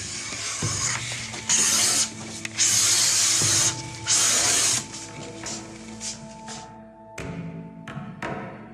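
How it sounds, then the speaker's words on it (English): A Japanese hand plane drawn along shoji screen beams, slicing thin wooden ribbons in several bursts of bright, rasping shaving strokes separated by short pauses and clinks. "As the blade passes through these shoji screen beams, it cleanly slices off thin ribbons of wood."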